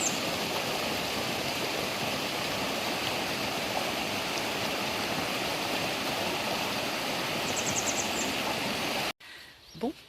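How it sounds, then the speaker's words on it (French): The small Rio Valcarce flows steadily at Las Herrerias on the Camino Francés in Spain, a continuous close rush of water that holds for about nine seconds before cutting abruptly to quieter ambience. "Et on a toujours ce petit Rio Valcarce qui coule."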